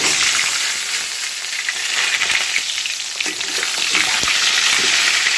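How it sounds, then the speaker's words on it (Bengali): Pointed gourd pieces frying in hot oil in a wok, a loud, steady crackling sizzle that runs continuously throughout with small spattering pops and no voices. "কড়াইতে আমি তেল দিয়ে দিয়েছি, তেলটাও গরম হয়ে গেছে। এবারে আমি পটলগুলো দিয়ে দেব।"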